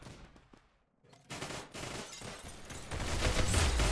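Rapid gunfire in a video game erupts after a brief quiet moment, building into loud, dense automatic bursts that grow heavier toward the end.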